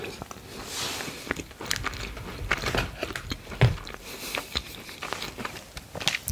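Macarons being bitten and chewed up close, soft crunches and wet mouth sounds recurring irregularly throughout, with quiet breaths between bites and no talking.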